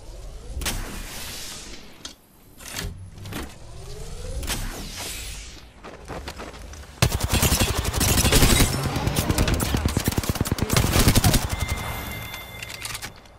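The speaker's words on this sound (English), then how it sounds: "They spotted me. I'm taking shots." Gunfire in the video game Apex Legends, with scattered shots, whooshes and impacts at first, then a loud, sustained burst of rapid automatic fire in the second half, dense and close.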